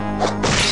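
A punch lands in the video game Stonekeep, a loud, sharp thwack with a brief whooshing swing around it, one short forceful impact alone.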